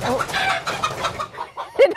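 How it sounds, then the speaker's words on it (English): Chickens cluck and squawk agitatedly up close, a continuous flurry of overlapping calls ending in a louder sharp squawk. "Now that we've upset our chickens"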